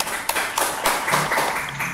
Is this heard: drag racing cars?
no